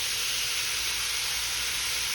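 Shrimp sizzle on a grill with garlic and Worcestershire sauce, a loud, unbroken close hiss and crackle with no pauses or voices.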